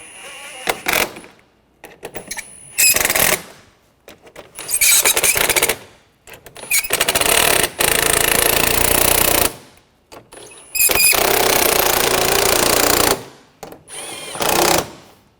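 A power driver tightens fasteners on the front bumper cover of a 2013-2019 Ford Escape, running in about six loud, close bursts of whirring and rattling, each lasting one to three seconds, separated by short pauses, with no talking.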